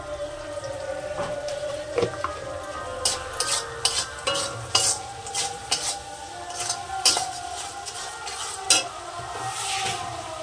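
A fish head with turmeric and spices is stir-fried in a pan. Soft, quiet sizzling sits under an irregular run of sharp spatula taps and scrapes against the pan, with no voices.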